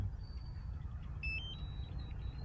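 A few faint electronic beeps from a DJI Mini 3 drone controller during return-to-home, short high tones stepping in pitch, heard over steady low wind-like rumble outdoors in strong wind.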